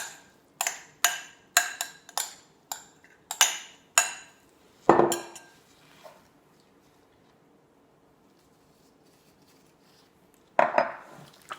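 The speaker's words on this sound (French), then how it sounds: "Alors, je mélange mes ingrédients." Parsley, garlic, onion, tomato paste, salt, pepper and parmesan stirred together for a cannelloni filling, a utensil clinking rhythmically against a dish in a quick series of close knocks, then a pause and a final short burst of scraping.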